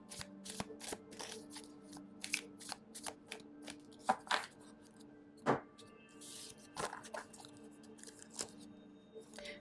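Tarot cards being shuffled at close range, a quiet, steady run of papery riffles and soft slaps with brief pauses, heard alone in a still room.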